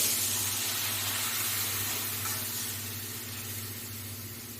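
Water poured into a pan of spiced potatoes and capsicum for aloo dum sets off a steady, moderate steam hiss over a low hum, slowly easing off as the pan settles.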